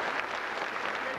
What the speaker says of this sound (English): give them a big round of applause, the Driscoll brothers.